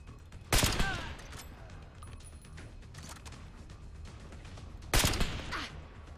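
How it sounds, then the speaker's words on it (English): Two heavy shots from a 20mm anti power armor rifle in Fallout 4 fire a few seconds apart, each a loud sharp blast with a short ringing tail over quiet game ambience. "That's a warning shot."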